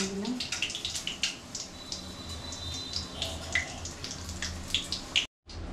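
Garam masala, bay leaves, cumin and dried red chillies crackle and sizzle in hot white oil, a steady close spitting hiss with small pops.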